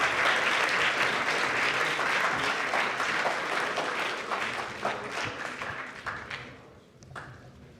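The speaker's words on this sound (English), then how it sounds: "Can we get another round of applause for these guys?" A crowd applauds at a hackathon closing ceremony, dense and loud clapping at first that gradually thins and fades toward the end, leaving a few scattered claps.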